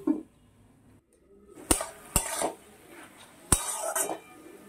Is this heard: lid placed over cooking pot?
yes